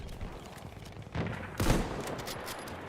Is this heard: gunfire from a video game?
yes